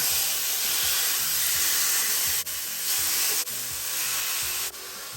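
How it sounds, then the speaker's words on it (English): Steady loud hiss of chicken searing in an oil-sprayed hot pan, continuous and close, with a few brief dips in the noise. "Oil spray, chicken goes in."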